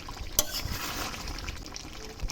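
Water from rinsing a spice bowl pours into a pan of mutton curry with a close, bubbly trickle and splash, opening with a sharp clink of the bowl.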